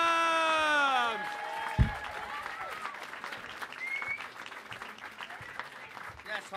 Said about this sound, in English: Start clapping, ladies and gentlemen, for your first roasters, Alex Money and Rial Adams.